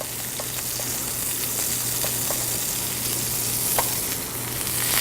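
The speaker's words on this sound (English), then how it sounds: "we're going to go 2 to 3 minutes per side. Making sure we don't move the steak. Okay, we let it cook" Steak searing in a hot pan gives a steady, close, crackling sizzle with a low hum underneath and a few sharp pops, and nobody speaks.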